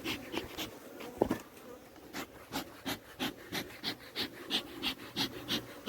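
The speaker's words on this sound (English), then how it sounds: "this is how I usually listen to my bees" Honey bees buzz at an opened hive, a steady close hum with rhythmic pulses and rustling, fairly quiet, without talk.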